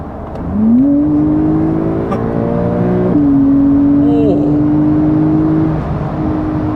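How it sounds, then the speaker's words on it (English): A Porsche 718 Cayman GT4 pulls hard in a straight line, its engine note climbing steadily through long sustained pulls with a gear change in between, heard loud from inside the cabin. "So straight line, mate. Boots it."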